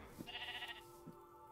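A sheep in the Minecraft video game bleats once in a wavering, nasal cry, close and clear, with a couple of soft thumps around it and no talking.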